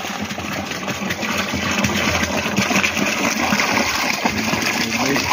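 Discolored water pours out steadily in a continuous rushing, gushing stream close by, filling the whole stretch at an even level with no talk over it.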